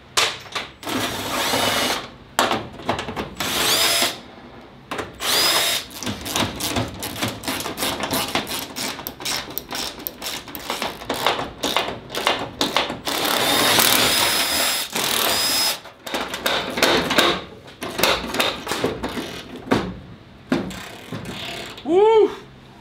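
Impact wrench zipping hood hinge bolts off a fire-damaged 1977 Ford F250, a series of loud mechanical ratcheting bursts with short pauses between, close up, with occasional talk in the background.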